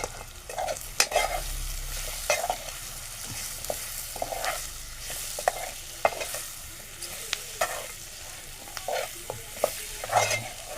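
Vegetables being stirred in a cooking pan, repeated scraping and clacking of a spoon against the metal over a soft sizzle, in irregular bursts close by.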